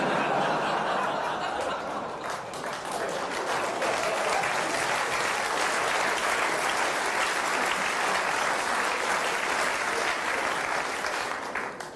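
Loud, sustained applause from a cabaret audience, thick continuous clapping with some laughter mixed in, holding strong throughout before tapering at the very end.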